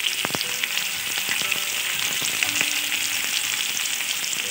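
Potatoes sizzle steadily in a pan with salt added, cooking for a Bengali vegetarian aloo dum, with a continuous bright hiss of hot oil and a few light clicks from stirring.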